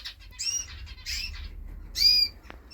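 A small pet canary hen, clear buff, chirps in a few short bright bursts with brief pauses between them, close by in a birdroom, then a single sharp click.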